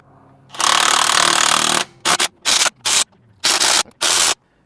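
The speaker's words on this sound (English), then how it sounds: "going to basically get the impact and use the torque limiting bar on it to make sure we don't over tighten with the impact" A pneumatic impact wrench fitted with a torque-limiting bar tightens the wheel lug nuts on a Rivian: one long buzzing run of just over a second, then five short loud bursts in quick succession, close up with no speech.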